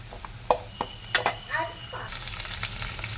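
Pirandai (adamant creeper) sautés in a pan, with a few clinks of a spoon against metal, then a steady, rising sizzle of frying that fills the rest of the moment, close and moderately loud.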